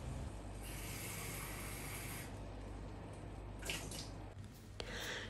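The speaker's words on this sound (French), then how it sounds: "j'ajoute de l'eau et je laisse cuire jusqu'à absorption totale" Water is poured into a pan of bulgur, giving a steady splashing hiss that fades after a couple of seconds and is followed by faint clinks and trickles.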